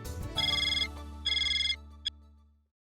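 A telephone rings for an incoming call in a Hindi TV sitcom, with two clear electronic ringtone bursts followed by a short click as the call is picked up, then the line falls quiet.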